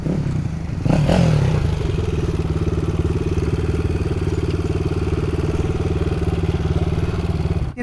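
An off-road motorcycle idles steadily close by during a rest stop on a trail ride after punctures, with the CrossX250SE and Crossfire450RR along. A brief louder blip comes near the start, then an even, putting rhythm continues throughout.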